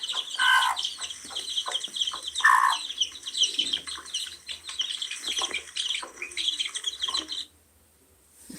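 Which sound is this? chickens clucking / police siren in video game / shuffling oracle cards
chickens clucking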